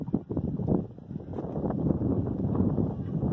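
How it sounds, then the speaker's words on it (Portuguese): Strong wind on a hilltop in Pernambuco buffets the microphone in a continuous rough roar that rises and falls, with no talk. "o vento, ó, estão ouvindo? O vento está muito."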